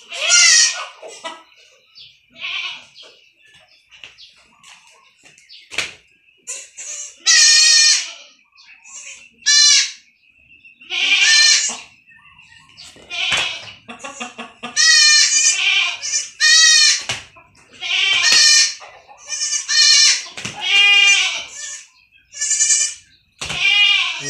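Young goats bleat repeatedly while receiving an iron injection, a string of loud, close, wavering cries coming in quick bursts with short pauses between them.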